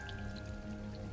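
Soft rain falling from small magical rain clouds in the game Hogwarts Legacy, a quiet patter of drops under a faint steady hum of music.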